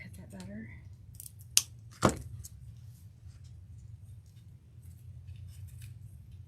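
Scissors snip through ribbon for the bow of a gingerbread Christmas wreath, two sharp cuts close together near the start, with a soft voice briefly heard at the very beginning.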